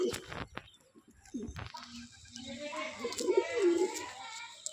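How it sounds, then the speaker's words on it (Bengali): A restless pet pigeon coos in soft low bursts near the end, close by, after some handling noise and children's voices talking in the background. "খুবই ছটপটে পায়রা, হাতের মধ্যে থাকে না একদম"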